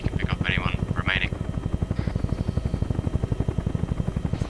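A Huey helicopter in the ArmA 3 video game, its rotor thumping in a steady, rapid, loud pulse close overhead throughout, with voices talking over radio above the rotor noise.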